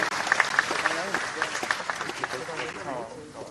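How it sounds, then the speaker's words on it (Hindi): Audience applause welcoming a speaker to the dais at a national highway project inauguration ceremony, clapping fading within a few seconds, with a voice speaking over the sound. "जोरदार तालियों से उनका अभिवादन स्वागत कीजिए"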